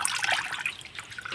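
Water splashing and trickling as a young boy bathes at home in a village, a steady, close wash of splashes with no one speaking.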